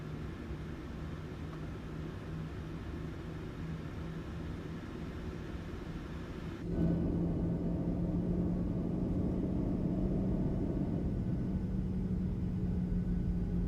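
Jet engines of a PMDG Boeing 737 in Flight Simulator 2020, with Boris Audio Works sounds, spooling up. A steady low rumble with a tonal whine jumps to a louder, fuller roar midway and then holds at high power.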